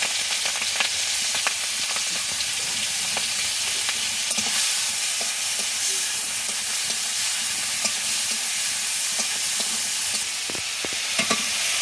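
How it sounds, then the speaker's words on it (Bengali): Prawns fry in hot oil with a steady, loud sizzle throughout, broken by occasional sharp clicks and scrapes of stirring. "এবার চিংড়িটা ভেজে নেব চিংড়িটা তেলের উপর দিয়ে দেবো"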